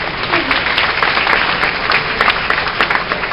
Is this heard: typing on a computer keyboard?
no